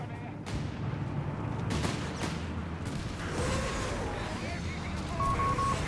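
Artillery barrage in Company of Heroes 3, Wehrmacht against British forces, with heavy shell impacts and cracking gunfire thudding repeatedly beneath continuous spoken commentary and unit voice lines, dense and steady throughout.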